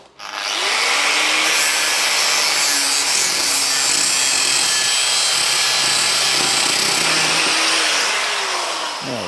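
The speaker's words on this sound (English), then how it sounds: "let's cut that in half" A metal part from a Triumph is sawn in half with a continuous, loud, hissing cut that runs steadily for about nine seconds, close and unbroken with no talking.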